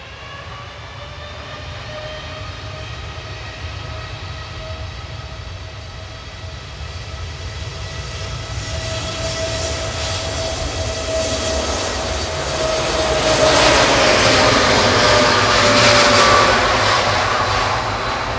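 TUI Boeing 787-8 Dreamliner jet taking off for Alicante from Manchester Airport, a steady engine roar with a whining tone that builds and swells loudest late in the run as it passes, with no talk.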